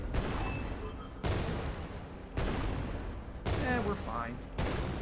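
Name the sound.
gunfire in the video game Artificial Extinction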